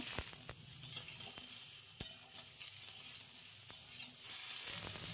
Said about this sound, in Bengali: এবার আলুটা ভাজা হয়ে গেলে আমরা একে একে সবজিগুলো দিয়ে দেব যেমন ওই কেটে রাখা পটল আর ঝিঙে খুব ভালো করে সবজিগুলো ভেজে নেব